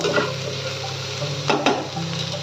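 Potatoes with chopped coriander and chilli fry in a pan, a steady close sizzle broken by a couple of quick scraping stirs partway through, with no talking.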